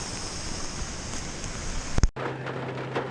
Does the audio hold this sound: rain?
yes